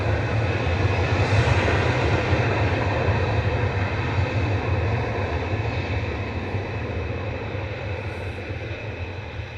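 Aircraft G-GAL arrives at Manchester Airport with a continuous, loud jet engine roar that slowly fades over several seconds.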